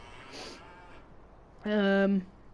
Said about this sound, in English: And then here's our cows.